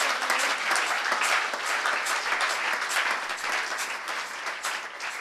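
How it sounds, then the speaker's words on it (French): A church congregation claps and cheers in praise of the Lord, a dense sustained wave of applause that holds steady throughout with no one speaking over it. "Acclamez le Seigneur"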